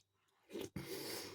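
A crunchy McVitie's digestive biscuit is bitten and chewed close up, a short sharp crunch followed by a burst of crisp chewing, alone and fairly quiet.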